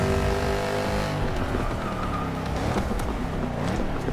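A Mercedes C63S engine roars loud and close, dropping through a quick downshift with stepped revs and a burbling, rasping note held throughout, no talk over it.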